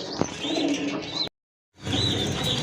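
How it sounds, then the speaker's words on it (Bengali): A breeding pair of pigeons in a loft coo and chirp close by, with a steady bird chorus around them, broken by a brief silent gap midway. "এই যে দেখেন কবুতর জোড়া"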